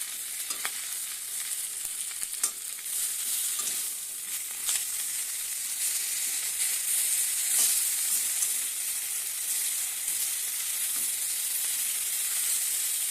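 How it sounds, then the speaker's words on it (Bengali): A fish head sizzles steadily in a frying pan, a dense continuous crackle and hiss with a few sharper pops and spatters, close and alone with no voices. "ये মাছ ভেজে নিয়েছি আগেই, এবার মাথাটা ভাজতেছি।"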